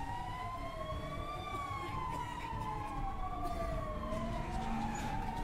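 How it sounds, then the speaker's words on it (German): Ambulance siren in the zombie video game Epidemic, a wailing two-tone electronic siren sweeping up and down steadily over a low rumbling background, loud and continuous. "Es fahren sogar die Krankenwagen hier an."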